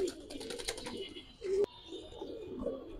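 A male Gangchil Kaldam pigeon coos nearby in a loft full of other pigeons, with soft rolling coos, a short louder burst midway, then quieter murmurs and faint fluttering.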